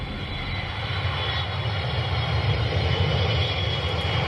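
Steady, loud engine roar fills an airplane cabin in flight, a continuous broadband drone with a low rumble and no talking.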